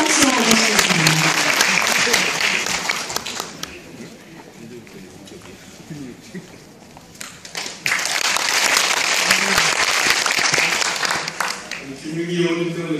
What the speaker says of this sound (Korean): 여러분의 뜨거운 박수로 모시겠습니다.